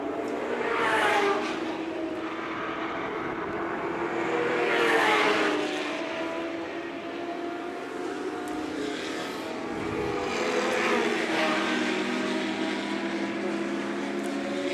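Historic race cars lapping at the Goodwood 74th Members Meeting during a one-hour Alan Mann Trophy race, engines swelling loudly as cars pass in several waves, then fading between passes against a steady roar of more distant cars.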